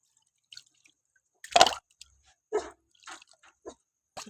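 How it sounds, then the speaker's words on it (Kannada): Water is poured and splashed over a stone grinding stone in a kitchen, giving a few separate wet splashes and drips with short pauses between them, close and clear. "ಇದು ಚೆನ್ನಾಗಿ ತೊಳಿಬೇಕು ನಾವು ನೀರು ಹಾಕಿ"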